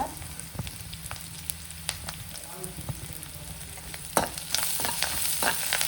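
Onions frying in a pan for okra palya, a continuous crackling sizzle with scattered spatula taps and stirs, growing busier and louder toward the end.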